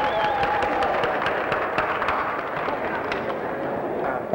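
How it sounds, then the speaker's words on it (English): An audience at a church comedy show breaks into crowded applause, dense crackling claps filling the room at steady loudness, with voices mixed in. "give a round of applause"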